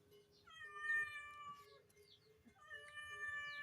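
A cat meowing while being fed, giving two drawn-out, wavering meows close by, the second following a short pause, with faint background noise and no talking.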